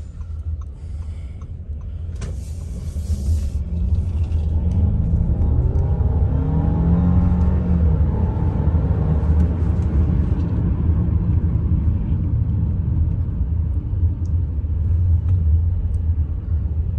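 An Audi A6 sedan driving in sports mode, heard as a steady low engine and road rumble from inside the cabin that rises and holds, with a brief higher whir near the start.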